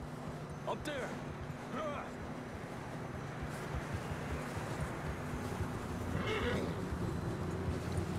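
Horses whinnying in the snowstorm of the video game Red Dead Redemption 2, a few short neighs over heavy wind noise, with people talking throughout.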